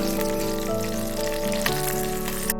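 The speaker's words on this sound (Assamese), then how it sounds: "পিঁয়াজখিনি ভজা গৈছে।" Onions fry in oil with cumin seeds, a steady close sizzle that carries on without a break, with a sustained humming tone behind it and a couple of small pops.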